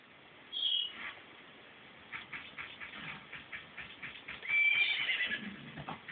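Horse neighing in The Legend of Zelda: Majora's Mask at Romani Ranch: a short whinny, then a longer one a few seconds later, with quieter whinnying between, all moderately faint.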